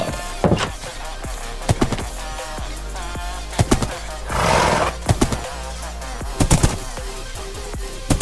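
Minecraft horse neighs and whinnies over game sounds with sharp clicking hits and a brief rushing noise in the middle.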